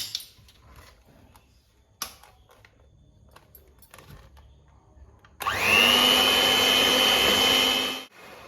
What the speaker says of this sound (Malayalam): മുട്ടയിലേക്ക് ഒരു ടേബിൾ സ്പൂൺ വാനില എസൻസ് ഇത് രണ്ടും കൂടെ ചേർത്ത് നന്നായിട്ട് നമുക്കൊന്ന് ബീറ്റ് ചെയ്യാം